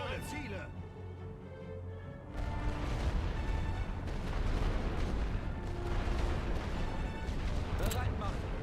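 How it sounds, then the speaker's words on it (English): Artillery batteries fire from all barrels in a World War I game set on the Western Front with the German Empire, giving dense, continuous booming and rumbling barrages under a steady bed of commands and voices. "Feuer aus allen Rohren"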